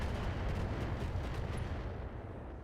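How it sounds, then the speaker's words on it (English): Rumbling barrage of missile impacts pounding a mech in a Thorium Mercs combat game, a dense continuous roar of blasts lasting the whole stretch with no voice over it. "We're going to take a little bit of missile damage."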